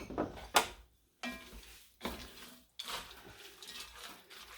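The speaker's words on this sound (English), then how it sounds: "We're going to give this a mix." A spoon scrapes and stirs through a thick Halloween hash of kidney beans in a Dutch oven, several separate rough scraping strokes with short quiet gaps between them, faint and close.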